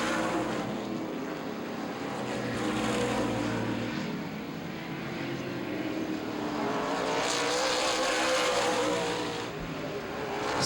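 A race car on a dirt speedway in a 100-lap event, with the engine roaring loudly and sweeping past. Further cars drone around the track.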